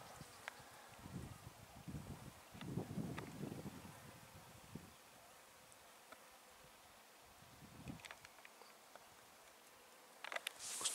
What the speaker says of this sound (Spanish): aquí están las abejas custodias